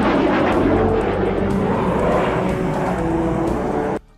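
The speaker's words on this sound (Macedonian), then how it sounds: "воените действија започнале со извиднички лет од борбен авион Су-25" A Su-25 combat jet flies overhead with a loud, sustained engine roar that stays strong throughout before cutting off abruptly near the end.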